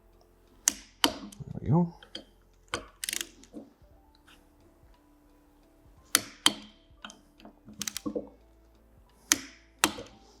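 Torque wrench clicking as it reaches spec on Subaru intake AVCS cam gear bolts: crisp, close mechanical clicks arriving in scattered pairs, with a voice speaking briefly between them.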